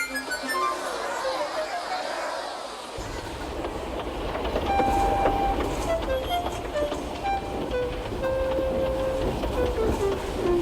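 A simulated steam engine pulls away from a platform with a rising chug, rolling rumble and wheel clatter, joined by a long whistle, with voices talking over it.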